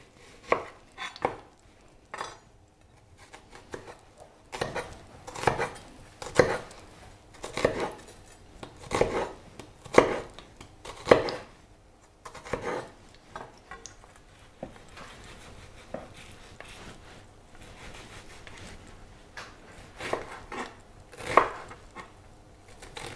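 An onion being finely chopped with a knife on a board, irregular bursts of close, crisp cuts with short pauses between runs, the knocks growing sparser in the middle before a final few strokes, no speech.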